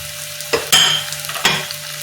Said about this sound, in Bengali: আমি জিরা গুঁড়ো, ধনে গুঁড়ো, হলুদ গুঁড়ো, লঙ্কা গুঁড়ো, এগুলো সব কড়াইয়ের মধ্যে ঢেলে দিচ্ছি